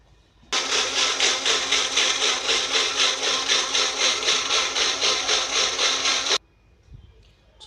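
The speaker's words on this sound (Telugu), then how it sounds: "ఇప్పుడు దీన్ని బ్లైండ్ చేసుకుందాం మనం." A mixer jar whirs through carrot and beetroot pieces in water, starting abruptly and running loud and steady for about six seconds with a pulsing, grinding churn before cutting off sharply.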